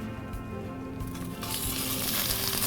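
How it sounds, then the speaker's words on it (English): Chopped onion dropped into a hot oiled pan for Thai green curry, a close, loud sizzle that swells suddenly and keeps hissing steadily. "It's got a nice sizzle."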